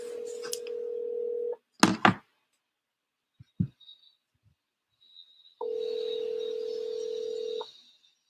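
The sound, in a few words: telephone dialing and dial tone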